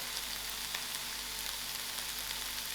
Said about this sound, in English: I'll give it a good mix. Let it become a stir fry.